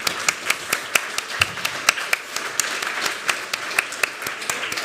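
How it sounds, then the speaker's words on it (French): Audience applause at a photography conference, a mix of close, sharp individual claps standing out over a steady background of clapping, with no talk. "si vous pouviez les applaudir, moi je serais très contente"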